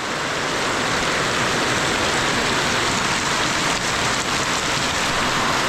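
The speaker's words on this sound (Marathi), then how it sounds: "पाऊस आला" Steady, heavy unseasonal rain pours down continuously in Konkan, India, a dense hiss of drops drumming on surfaces close by.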